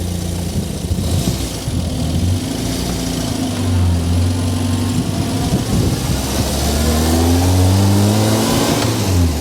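A 1940s Singer 9 Roadster British sports car engine idles with a deep low rumble, then revs up twice, rising and falling in pitch, loud and close with no talking.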